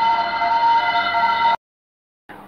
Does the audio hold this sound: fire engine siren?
yes